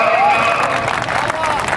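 Audience applause at a Hindi poetry recital, a broad wash of clapping with crowd noise and some voices mixed in, fairly loud and steady throughout.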